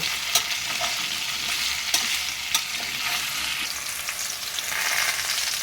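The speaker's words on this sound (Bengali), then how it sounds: "কুমড়ো ও আলু একসাথে এবার ভালো করে একটু ভেজে নেব" Pumpkin and potato pieces frying together in a pan for a Bengali pumpkin chhokka, giving a steady close sizzle with a few sharp clacks of stirring, with no voices.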